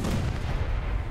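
A tank cannon firing in a tank video game, with a T-34 among the tanks in the fight. One loud, booming blast fills the short moment and rolls on with heavy low rumble.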